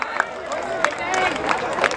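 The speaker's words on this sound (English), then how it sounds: "Can we have a loud round of applause for under 14 Rush" Audience at a youth football league prize ceremony applauding the under-14 runner-up team, a short burst of crowd clapping and cheering heard under ongoing chatter and a nearby voice.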